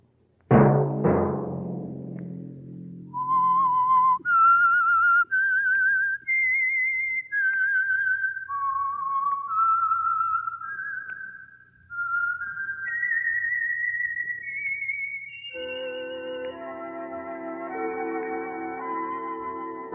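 A clear melodic whistle, a person whistling a slow tune of sustained notes, then a brief musical accompaniment joins near the end.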